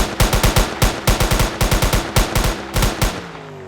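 A car engine in BeamNG backfiring on start-up, a rapid loud volley of sharp popping bangs in clustered bursts, then a brief engine hum trailing off at the end.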